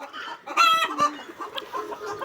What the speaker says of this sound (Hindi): ये रेड बेंटम है, ये अमेरिकन ब्रीड है